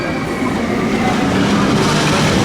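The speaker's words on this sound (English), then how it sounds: "That train couldn't have come at any better time." The Pepsi Max Big One roller coaster train at Blackpool Pleasure Beach rushes past close by, a loud, dense, continuous roar of wheels on track that fills the whole moment without any voices.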